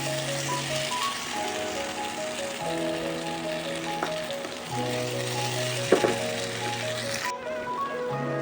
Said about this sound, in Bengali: দিয়ে নাড়তে থাকবো ততক্ষণ না আলুটা সিদ্ধ হয়, ততক্ষণ ভাজতে থাকবো